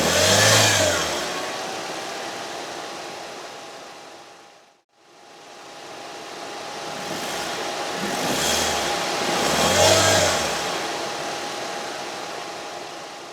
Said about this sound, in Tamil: ஸோ இப்போ இந்த என்ஜினோட NVH லெவல்ஸ் எப்படி இருக்குன்றதை செக் பண்ணிடலாம்.